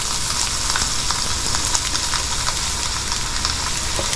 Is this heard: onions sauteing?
yes